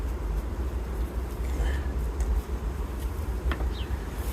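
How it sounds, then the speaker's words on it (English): Honey bees buzz steadily at close range around hive frames over a low continuous rumble, with a few faint brief whines drifting past. "we'll gently brush the bees off, back into the box"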